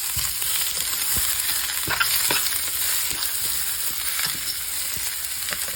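A pork hock sizzles steadily as it goes into a hot pot, a constant bright frying hiss with occasional sharper pops and crackles, close and loud with no talking.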